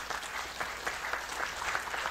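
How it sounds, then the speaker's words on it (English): Steady applause rises from the audience at a panel discussion on open business, government and science, a fairly distant, even patter of many hands clapping without break. "I think we can also give a round of applause."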